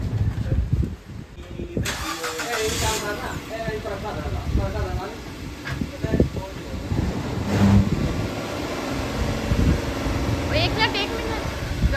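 A car engine cranks and turns over, then idles and revs as the car is pulled out, under rain and storm noise. People talk throughout.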